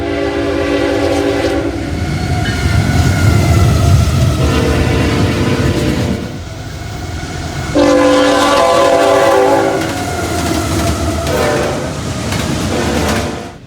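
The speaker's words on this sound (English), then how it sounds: "The first train we caught was a Norfolk Southern Intermodal with a GEVO leading and an AC-44 trailing" A Norfolk Southern intermodal train led by a GEVO locomotive with an AC-44 trailing races past, loud and close, horn blasting in several long blows over a heavy rumble and clatter of wheels.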